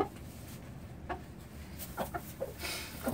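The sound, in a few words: hen clucking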